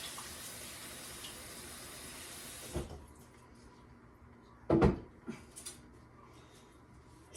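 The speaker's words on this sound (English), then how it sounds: "I'm gonna add fresh water back on the potatoes" Fresh tap water runs onto potatoes in a kitchen sink while supper is cooked, a steady gushing fill lasting a few seconds before cutting off, followed by a couple of brief splashes and clunks.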